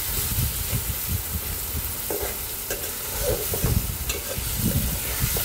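Whole spices—bay leaf, cloves, cardamom and cinnamon—fry in oil with onions in a pan for beef head brain curry, with steady close sizzling and scraping stir strokes throughout, no voices.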